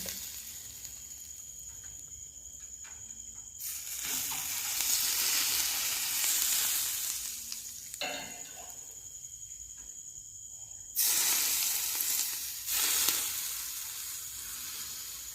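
Fenugreek seeds and spices fry in oil for a Khandeshi raw mango pickle, soft crackling at first, then loud hissing surges as ingredients are added, alongside occasional stirring.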